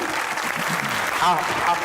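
Applause from a studio audience on a Pakistani comedy talk show, a dense steady wash of clapping that carries evenly through the moment, with faint voices mixed underneath.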